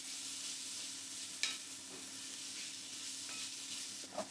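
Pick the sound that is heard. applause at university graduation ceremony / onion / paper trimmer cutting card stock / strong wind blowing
onion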